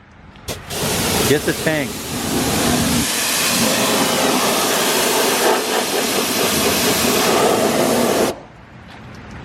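Cleaner sprayed in a long, steady hiss onto a dirty, off-roaded Jeep Grand Cherokee wheel during a wheels-off winter detail. The spray runs loud and close for several seconds, with a short spoken remark near the start.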